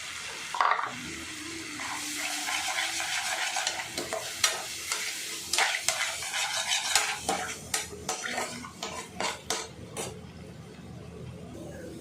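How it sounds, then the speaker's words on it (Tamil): An egg stirred into frying onion, tomato, curry leaves and spices in a pan for egg parotta, with repeated metal scraping and clinking of the utensil over a steady sizzle, close and busy, no talking. "ஒரு முட்டையை ஊற்றி கிண்டிட்டோம்"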